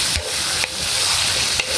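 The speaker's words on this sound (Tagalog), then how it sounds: "At halo-haloin po natin mga idol." Chayote being stirred in a hot pan for ginisang sayote with ground meat, a steady close sizzle broken by a few soft scrapes of the spoon, with no talking.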